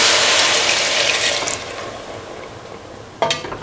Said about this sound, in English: Now pour in 200 ml of coconut milk.